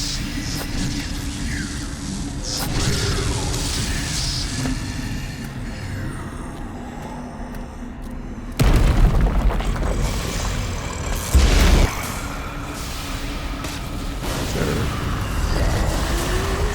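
Rocket launcher explosions in the Black Mesa video game, heavy booming blasts over a constant game soundscape, with two sharp louder bursts about eight and eleven seconds in.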